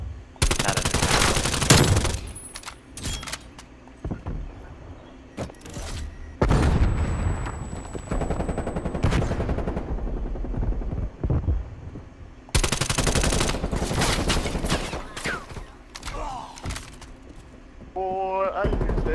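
Long bursts of AK74 rifle fire in Call of Duty: Cold War rattle loud and close, broken by short pauses, with a few booms and a voice talking in the gaps.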